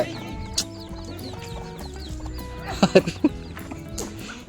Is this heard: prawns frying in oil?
no